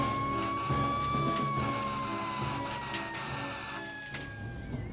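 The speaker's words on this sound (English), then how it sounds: "It was ages before the wail of sirens filled the air" Fire engine sirens wail in the distance, their tone drawn out and slowly sinking in pitch over a low rumble of background noise.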